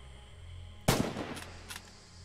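A single sharp rifle shot in Red Orchestra 2, a WWII Stalingrad shooter, cracking loudly after near silence and trailing off with a short echoing tail and faint distant reports.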